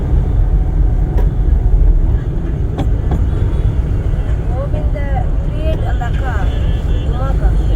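Car in third gear during a driving lesson, a continuous low engine and road rumble filling the cabin at steady loudness, with an instructor and learner talking over it and a few brief squeaks and clicks.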